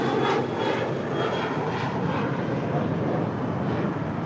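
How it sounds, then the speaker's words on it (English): Cessna Citation Latitude business jet departing LAX for Washington Dulles, a loud, steady jet engine roar filling the whole stretch with no voices. "This is a Cessna Citation Latitude departing to Washington Dulles, NetJets 636."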